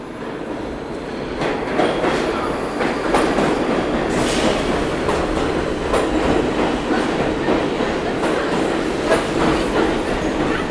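New York City subway N train riding the rails from Chinatown toward Astoria: a loud, steady roar of the car with rhythmic clickety-clack over the track joints and brief squealing wheels, heard from inside.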